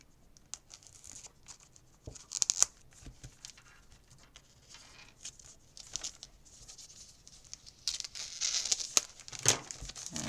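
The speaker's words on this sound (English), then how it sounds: "get this plastic wrap off here" Plastic wrap is crinkled and peeled off a Paper Pumpkin craft kit, close-up rustling and crackling in irregular bursts that grow louder and busier toward the end, with no voices.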